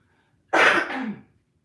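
A single harsh cough or throat-clear from a woman with a lingering cough, close and fairly loud, lasting under a second before quiet returns.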